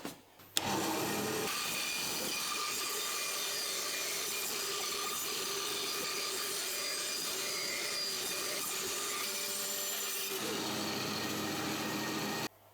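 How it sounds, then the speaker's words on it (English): A bandsaw rough-cuts the shape of a wooden table saw zero clearance insert. A continuous, fairly loud whining and rasping cut runs for about ten seconds, starting abruptly and cutting off near the end. "Now I'm gonna rough cut the shape with a bandsaw, just slightly outside of it"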